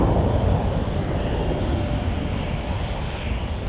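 An arriving Endeavor passenger jet from Kansas City roars past at Minneapolis–Saint Paul airport, a steady loud broadband engine rush that swells slightly at the start and holds for several seconds.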